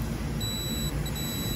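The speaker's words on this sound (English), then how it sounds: "And it's ringing out, you're going beep." A steady, high-pitched continuity beep from a multimeter probing HVAC compressor terminals, loud and unbroken for the whole stretch, with no talking.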